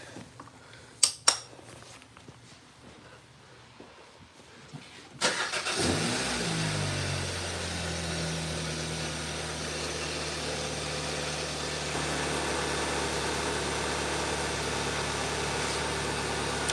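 Hyundai Sonata engine cranks to life after a few soft clicks, catching with a sharp burst and settling into a steady, close idle hum that carries on to the end.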